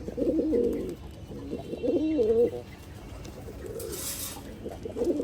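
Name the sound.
pigeons cooing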